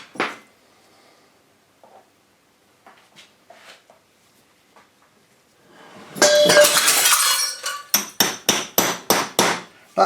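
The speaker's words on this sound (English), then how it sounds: "That noise was a neon tube that just fell out of this box onto the floor and smashed." A neon tube drops out of a box in a workshop and smashes on the floor: one loud burst of breaking glass, then a quick run of sharp rhythmic tinkling crashes as pieces scatter, after quiet scattered tapping and handling noises.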